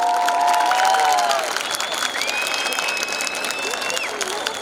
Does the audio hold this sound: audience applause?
yes